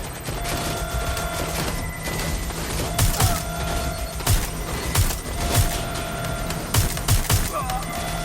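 Gunfire volley in an action game, repeated bursts of shots at irregular intervals over a constant mechanical background hum, loud and close.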